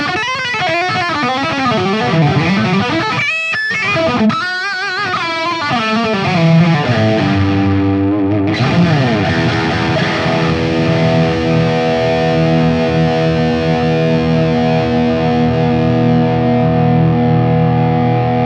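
A heavily distorted electric guitar plays through a Boss Waza Craft amp head and cab set to its deep setting, loud and saturated, with busy riffing that settles into a long ringing chord.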